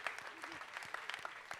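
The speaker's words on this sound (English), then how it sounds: "Let's give him a round of applause." An audience at a Halloween Horror Nights opening-night event claps steadily, a dense spatter of applause from a crowd, with a voice speaking faintly underneath.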